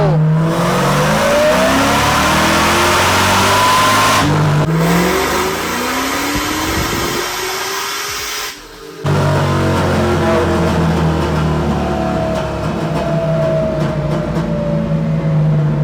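Car engine on a dyno pulling hard in third gear with the torque converter locked, a loud sustained rev climbing in pitch, a brief dip around the middle, then another strong rising pull.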